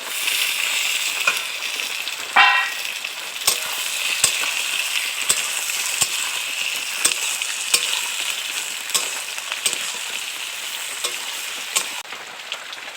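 Vegetables for a Bengali singi fish and potol curry hiss and sizzle loudly in a hot pan, with a steady frying crackle broken by repeated scraping stirs and clinks, close up and with no talking.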